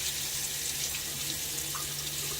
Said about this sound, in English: All right, let's rinse it off.